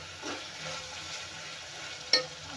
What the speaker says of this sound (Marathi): आपला मसाला पण खूप छान भाजला आहे कटाच्या आमटीचा.